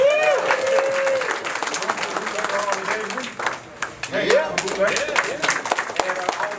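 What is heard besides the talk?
crowd clapping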